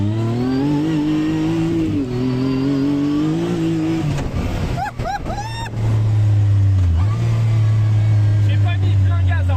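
Yamaha YXZ 1000R SS side-by-side engine revving and accelerating up close, a steady loud drone rising in pitch, with a brief gear-shift dip midway, while people talk over it.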